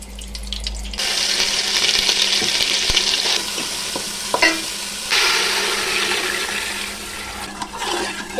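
Chicken biryani ingredients with ginger-garlic paste and masala fry in hot ghee, a steady close sizzling hiss that runs continuously with brief stirring clatters and a short pause midway.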